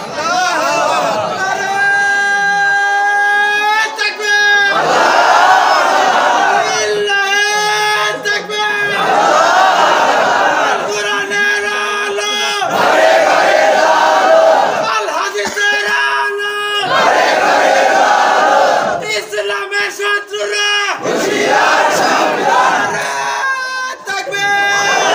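A large crowd at a religious gathering chants slogans in Allah's name, loud massed voices rising in repeated bursts that alternate with a leading voice, close and sustained throughout.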